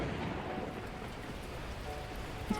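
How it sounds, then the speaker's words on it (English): Torrential rain pours down in the Beacon Pines game, a steady broadband rush with low rumbling underneath, loud and continuous with no gaps throughout. "At that moment, the heavens opened up, unleashing torrential rain."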